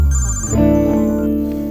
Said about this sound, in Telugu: నీ ఫోన్ రింగ్ అవుతుంది చూడు.